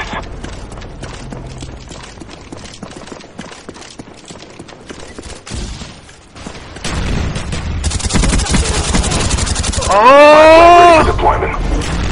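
Rapid gunfire in Call of Duty Black Ops Search and Destroy multiplayer on PS3, a dense stream of sharp shots building toward the end, mixed with game effects and a voice-like groan.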